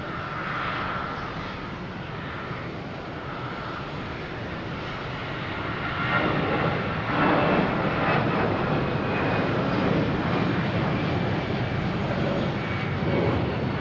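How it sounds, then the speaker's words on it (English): An American Airlines A320 takes off at Boston Logan, its broad jet roar steady and rising slightly as it climbs, heard from a plane-spotting spot with no talk over it. "we have American Airlines, an A320, taking off, heading to Philadelphia"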